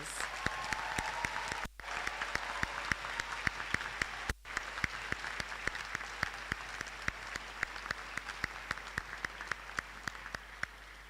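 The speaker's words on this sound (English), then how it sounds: "Can we just give them also a huge round of applause?" An audience at a prize-giving and oath-taking ceremony claps in sustained, dense applause for the whole stretch, a broad even patter of many hands with a couple of brief dropouts.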